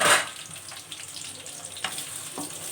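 Onions dropped into hot oil for a pea and chicken curry, with a bright burst of sizzling at the start that settles into a steady crackling fry.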